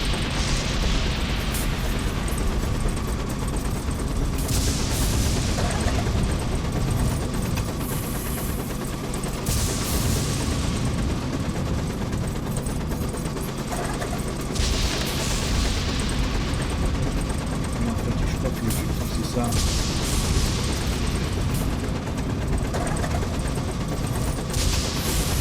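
Video game gunfire aimed at the player, dense bursts of shots and booms repeating over a constant loud engine-like drone, with no talk.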